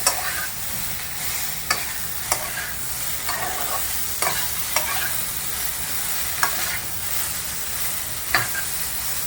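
Spiced sponge gourd vegetables sizzling in a pan, with a steady frying hiss and a spatula striking the pan in sharp, evenly spaced taps while the mixture is stirred.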